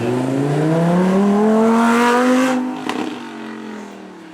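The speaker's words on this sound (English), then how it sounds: "There is no mistaking the V10 hell from a Lamborghini." A Lamborghini naturally aspirated V10 revs loudly up close at a supercar show, its harmonic engine note climbing steadily for about two and a half seconds before easing off and fading as the car moves away.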